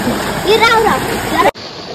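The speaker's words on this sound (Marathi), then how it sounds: "आमचो मोठा धबधबो हा होता इकडे" A large waterfall roars with a rushing, splashing wash of water while a person talks over it, then the sound cuts off abruptly.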